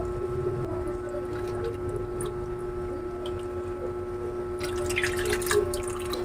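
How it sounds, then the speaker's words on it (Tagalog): Dissolved cornstarch slurry is poured into ube condensed milk in a pan, making soft, close drips and wet squishing splashes over a steady low hum, with no voices. "pwede na po nating isalin dito yung tinunaw natin na cornstarch"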